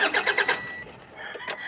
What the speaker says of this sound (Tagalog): kapag paandarin nila yan uli, hindi na po aandar yung sasakyan mo